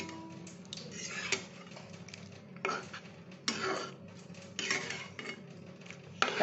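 Boiled mung dal, water and all, poured into a pan with a rohu fish head, then stirred. Faint metal clinks and scrapes of a spoon against the pan come at irregular intervals over a low kitchen background.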